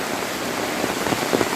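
Heavy rain pours steadily onto a village road in Koraput's Kotpad area, a dense close hiss with scattered drop patters and no voices.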